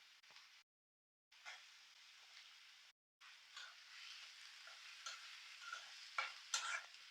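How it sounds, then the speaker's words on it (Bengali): Sliced onions and green chilies fry in hot oil for a prawn bhuna, giving a quiet, steady sizzle with soft stirring scrapes, broken by two short silent gaps. "তেলের মধ্যে এমনি পেঁয়াজ মরিচটা ভাজা ভাজা হচ্ছে।"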